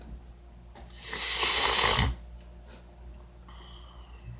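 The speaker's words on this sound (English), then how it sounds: "Sorry about the sniffles there." A single long wet sniff through the nose, close and fairly loud, followed by quiet room noise.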